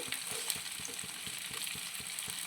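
Green chillies sauté in hot oil in a pan for a prawn biryani with a steady, close sizzle. A spoon stirs them in a regular rhythm of soft scraping taps.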